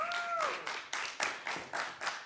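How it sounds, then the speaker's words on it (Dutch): A small audience at a film festival panel discussion claps in rhythmic bursts, a thin, close patter of a few hands with a brief whistling tone at the start. "Applaus"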